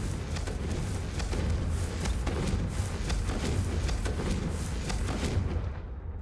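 Confringo blasting spell in a Hogwarts video game, a continuous roaring crackle of rapid bursts and rumbling booms, loud and dense throughout before cutting off at the end.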